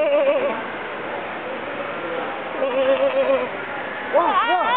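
Voices imitate a goat's bleat with wavering, quavering calls over children's chatter, the bleating rising louder near the end.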